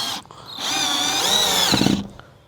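A power drill drives screws into a biogas plant fitting, giving one close, sustained whirring burst of motor whine that rises in pitch and then winds down.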